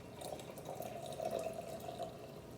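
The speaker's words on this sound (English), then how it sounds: "We're filling the rest of the jar, so 2/3 of it is being filled with warm water." Warm water poured into a jar, a soft, steady trickle and fill heard close and faint for a couple of seconds, with no talking.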